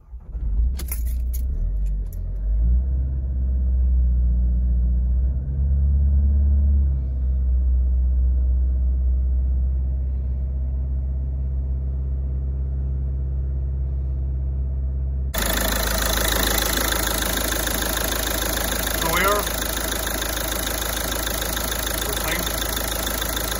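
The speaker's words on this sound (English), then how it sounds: "So I'm going to start the engine and hopefully keep running" Keys jangle at the start, then a Ford S-Max 2.0 TDCi diesel engine cranks and runs with a low rumbling idle, held at higher revs for a while before a sharp shift to a louder, harsher running tone.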